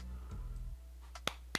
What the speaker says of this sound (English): that clapping sound effect sounded wild